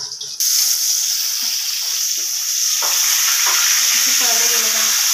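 Stuffed bitter gourds fry in oil in a covered pan, a steady loud sizzle running throughout after a quiet start, with a few soft knocks and shifts of the pan.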